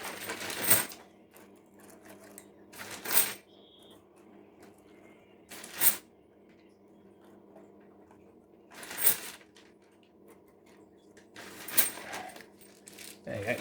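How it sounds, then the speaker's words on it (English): 50p coins dropped into a container during a coin hunt, several distinct clinking bursts spaced a few seconds apart, close and crisp, with quiet gaps between them. "I will try and very quickly put some of these dud coins in, so it will save me a bit more room."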